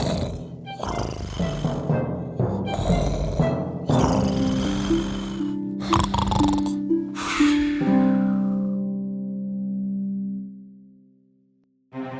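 A young man in a princess fairy tale snores, a voice imitating the sound with several loud, drawn-out snorting breaths that trail off into a long fading rumble, with no words spoken.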